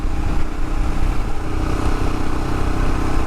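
A Royal Enfield Himalayan motorcycle rides up a mountain road, its engine a loud, steady close-up drone mixed with rushing wind, with no talking.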